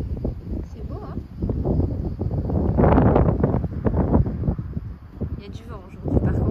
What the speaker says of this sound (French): Il y a du vent aujourd'hui par contre.